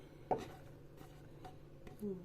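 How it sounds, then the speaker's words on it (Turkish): A few knife strikes chopping tomatoes on a cutting board, one sharp chop followed by softer scattered taps, fairly quiet against background hum. "Domatesleri de yine minik minik doğruyorum."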